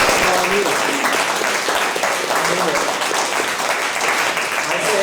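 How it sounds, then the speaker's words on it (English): Applause from an audience honoring county election staff at a Minnesota voting-law event, a dense steady wash of clapping that fills the whole stretch at an even loudness, with a few voices murmuring underneath. "how about a round of applause for the unsung heroes of our election system, the county election system"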